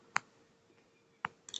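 Two sharp computer mouse clicks about a second apart, close and crisp, against a quiet room background with a faint third click sequence at the end; no talking.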